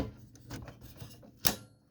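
A Canon Pixma TR8520 or TR7520 printhead is dropped into place inside the printer, giving a few soft plastic knocks followed by one sharp, close click near the end.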